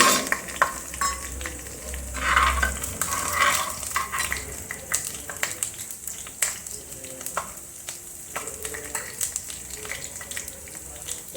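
Chopped red chillies dropped into a hot pan of frying garlic and ginger, producing a steady loud sizzle and crackle with stirring noises, close by and continuous throughout.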